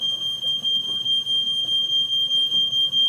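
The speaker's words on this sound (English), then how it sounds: "My smoke detector is quite finicky." A smoke alarm, set off by an oven on very high heat while cooking, sounds a continuous shrill, piercing tone close by, steady throughout with faint room noise underneath.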